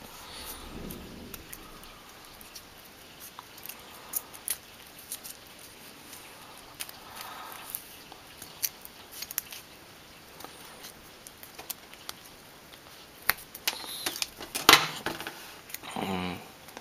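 Scissors cutting out the jaw of a small paper figure, faint snips and papery rustles, scattered and uneven, with a few louder crinkles near the end, no voices.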